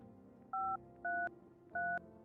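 Three crisp dial-tone beeps of telephone dialing sound in a video game's phone roulette, evenly spaced and clear over a quiet hum, with no talking.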